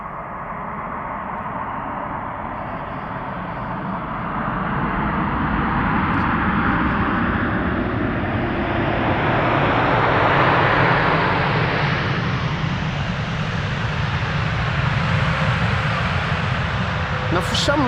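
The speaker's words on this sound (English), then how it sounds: "the landings here today are extremely loud" KLM airliners, including a 777-200 and a 787-9 Dreamliner, land at wintry Amsterdam Schiphol Airport, their jet engines roaring loudly and steadily and swelling to a long, broad rumble that fills the air.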